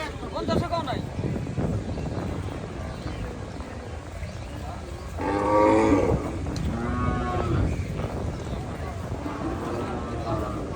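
Cattle low loudly at a rainy livestock market, with several long, deep moos rising in the middle and the end, while people talk over the steady crowd noise.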